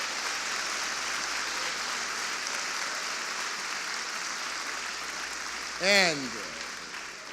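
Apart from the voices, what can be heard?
applause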